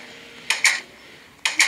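Background clatter of dishes or cutlery: two quick pairs of sharp metallic clinks over a quiet, steady room hum.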